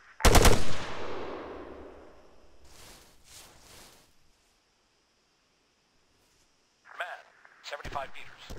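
Machine gun fire in Arma 3 opens with a loud, close burst that rings out into a long echoing tail, followed by silence and then further short distant shots under radio-style voices.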